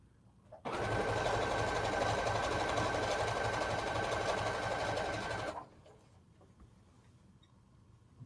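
A Brother sewing machine running at a table, a smooth, continuous close whir with a fine rapid stitching pulse, starting abruptly and stopping after about five seconds, then quiet room tone.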